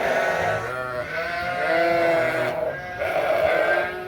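A group of sheep bleat inside a barn, several long, wavering cries overlapping one another, close and loud, with no voices.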